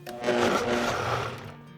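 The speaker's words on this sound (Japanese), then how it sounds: "ブレンダーまたはフードプロセッサーに移し、塩2つまみを加え、 滑らかになるまでかけます" A blender whirs steadily at high speed for nearly two seconds, pureeing fermented red bean paste with salt, a dense motor roar that dips slightly as it ends.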